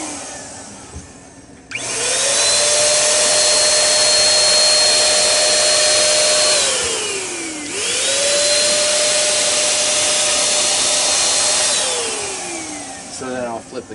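A spray gun applies pretreatment for DTG printing on dark garments, making two long, loud, steady hissing sprays with a whining tone that falls off as each burst ends.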